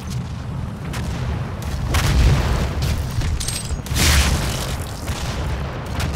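Rocket explosions in the DOOM video game, heavy booming blasts that roll out in two big surges over a dense, loud wash of in-game noise.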